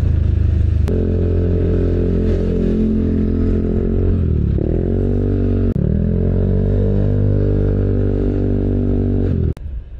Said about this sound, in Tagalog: Ito yung motor natin na si Bajo.